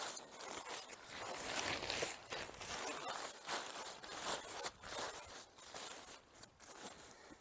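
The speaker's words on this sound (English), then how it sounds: "zip it up, try not to catch the tent actually back in it." Repeated zipper pulls close a six-person Gonex pop-up camping tent, a run of quick rasping strokes with short pauses, close and fairly quiet, with no talking.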